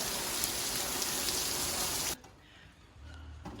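Torrential rain pouring down in a city street, a dense loud hiss of heavy drops that cuts off abruptly partway through, leaving a quiet low background.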